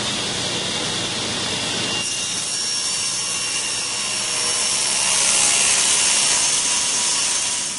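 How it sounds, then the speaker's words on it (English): A saw rips 3/4-inch-thick AZEK trim material into 3/4 by 3/4 inch strips, a loud continuous whining cut that rises in intensity toward the end. "help me rip this material down to the appropriate size"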